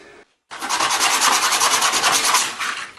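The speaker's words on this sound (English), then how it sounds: "I'm just sanding down the dowel so that it doesn't stick" Steady rhythmic rasping of sandpaper rubbed back and forth on a wooden dowel, loud and close, after a brief silence.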